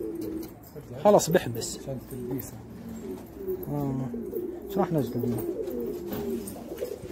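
Pigeons coo in low, rolling calls close by while people talk over them, with some rustling and wing movement.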